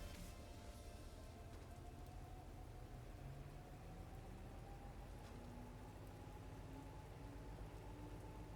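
Steady rain in the train game Derail Valley, a dense continuous hiss of drops on surfaces with a faint rising tonal whine, probably a locomotive, running underneath, no talk.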